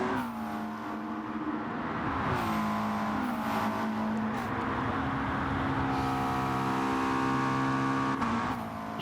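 Race car engines in a sim racing video game drone and rev continuously, loud and close, with gear changes shifting the pitch and faint tire noise beneath.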